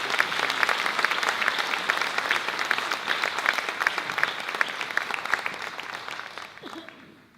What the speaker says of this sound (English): Please give a round of applause for Jim Knowlton.